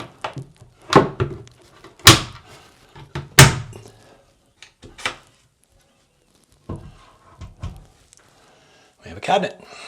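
Wooden cabinet door being fitted and shut by hand: a series of hollow thunks and knocks, a few sharp closes spaced across the stretch with quiet gaps between, close and fairly loud.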